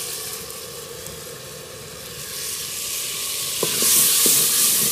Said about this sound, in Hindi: तड़का लग रहा है।